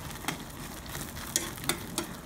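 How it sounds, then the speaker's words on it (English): Tamale pie filling of vegetables, meat and melting cheese stirred in a pot off the heat: a soft low simmer-like hiss with a few light spoon taps and scrapes, fairly quiet. "as I continue to stir and now take it off the heat"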